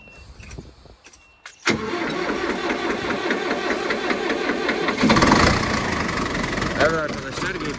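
A Ford 7740 tractor engine on a cold day cranks briefly after a few clicks, then catches and settles into a loud, steady knocking diesel idle close by, with a voice speaking over it.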